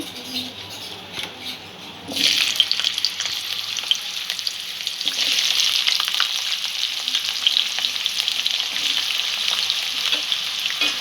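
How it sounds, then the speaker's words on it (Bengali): Potatoes frying in a pan for an aloo bhindi curry give a steady, close sizzle that swells noticeably after a quieter start and keeps crackling with no voices. "আলুটা একটু ভেজে নেব।"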